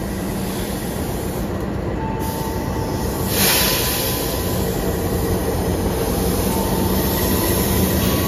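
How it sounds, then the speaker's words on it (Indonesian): The Wijaya Kusuma passenger train, running from Ketapang, Banyuwangi to Cilacap, arriving at a station, a loud, steady rumble of rolling rail cars with a faint high squeal from the wheels partway through. "Ini ada Wijaya Kusuma masuk dan ternyata Kauripan akan segera berangkat lagi teman-teman dari jalur 4."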